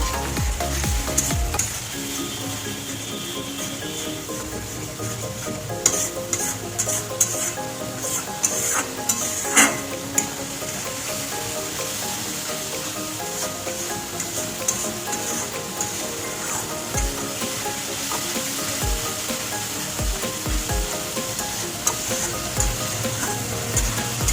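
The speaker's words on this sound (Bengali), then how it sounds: "ভালো করে কষিয়ে নেব।" Spices for Bengali shol fish curry sizzling and frying steadily in a pan while a spatula stirs and scrapes, a constant close crackle with occasional metallic knocks against the pan.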